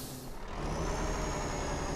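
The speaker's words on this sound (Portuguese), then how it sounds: "Liga o caminhão." A heavy truck in Euro Truck Simulator 2 hisses with an air release, then its engine catches and settles into a steady low rumbling idle, close and fairly loud, with no talk.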